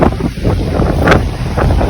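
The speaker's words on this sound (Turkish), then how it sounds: "Rüzgar de çok." Strong wind buffets the microphone in a steady, heavy roar with gusty surges, loud and close throughout.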